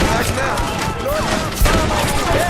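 Red Dead Redemption battle sounds form a dense, loud, continuous rattle of rapid gunfire, with machine gun bursts in the mix and shouting voices woven throughout.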